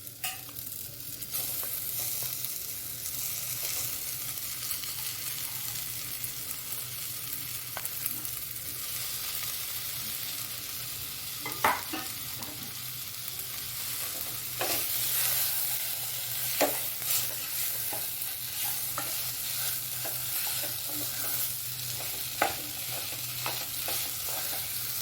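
Mashed boiled potato being stirred into spiced samosa filling frying in a pan: a steady sizzle runs throughout, with scattered clinks and scrapes of the spoon against the pan and no talking.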